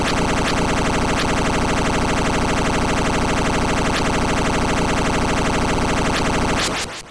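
Contra's spread shot noise-channel effect from the video game, retriggered in rapid succession so the loud, harsh bursts blur into a dense, almost continuous rolling stream that cuts off abruptly near the end.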